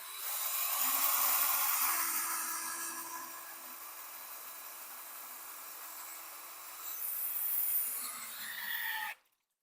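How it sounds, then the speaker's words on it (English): A steady electric drill whine runs at a constant low pitch, at low speed, for about nine seconds while turning a 302 engine, swelling slightly near the end before cutting off abruptly. "I'll put the drill on low speed and start turning here."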